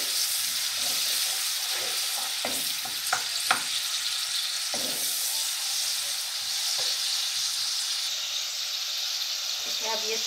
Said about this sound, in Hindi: ऑयल मैंने डाल दिया, अब हम इसमें सबसे पहले प्याज शामिल करेंगे।